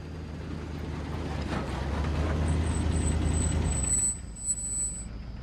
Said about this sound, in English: Just then, a truck arrives.